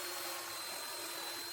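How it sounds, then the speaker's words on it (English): A power drill bores a hole in wood for a homemade water wheel, giving a steady, close whirring hiss with no talk. "drill your hole."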